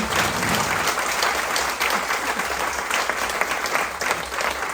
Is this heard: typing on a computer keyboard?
no